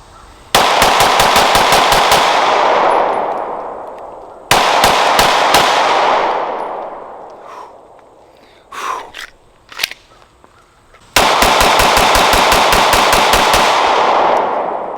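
Three rapid strings of loud, close pistol shots from a Glock 43X fitted with an Arc Division ported slide and barrel, each burst with sharp cracks and echoing decay, separated by quiet pauses with a few handling clicks.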